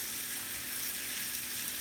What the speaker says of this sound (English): All we're doing is sauteing.